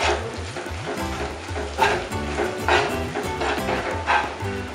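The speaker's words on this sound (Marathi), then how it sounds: "यात आता आपण जी पाट्यावर वाटलेली आलं लसूण मिरची आहे ती आपण टाकूया। ही देखील परतून घेऊया।" Ground ginger, garlic and green chili paste sautéing in a pan for chicken sukka: a steady hiss and sizzle with periodic stirring scrapes, close and moderately loud, with a dog barking repeatedly in the background.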